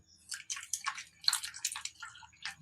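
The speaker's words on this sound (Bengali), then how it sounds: "আলুগুলো কাটিং করে নেওয়ার পরে জল দিয়ে ভালোভাবে ধুয়ে নেব।" Cut potato cubes are rinsed in water in a home kitchen while making aloo posto, giving soft, irregular splashes and drips in quick clusters at close range.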